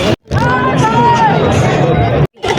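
Dense crowd babble at a busy temple in Ujjain, many overlapping voices close by in a loud, continuous hubbub, cut briefly at the start and end.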